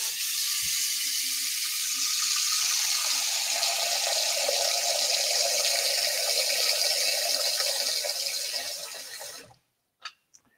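Tap water runs steadily into a cooking pot being filled for blanching beans, a loud, continuous hiss and splash lasting about nine seconds before the tap shuts off, followed by a brief clink and quiet.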